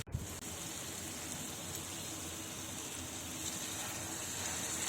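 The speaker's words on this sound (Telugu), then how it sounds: "ఇప్పుడు మనం 1 గ్లాస్ వాటర్ పోసుకుందాం" A glass of water is poured into a simmering cluster bean and tomato curry in a pan, making a steady, rushing splash that runs unbroken for several seconds after a brief clatter at the start, with no one speaking.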